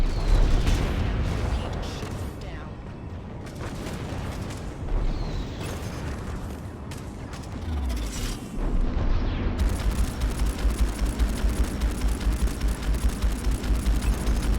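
Heavy cannon fire and explosions in the space combat game Strike Suit Zero, a dense, loud barrage of booms and blasts rolling continuously, with a steadier pulsing roar toward the end.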